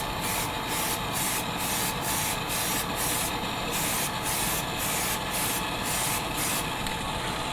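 Primer sprayed in an even coat onto the rear body panel of a Mad Max Pursuit Special Interceptor build, a steady close hiss in repeated pulsing passes with no talk.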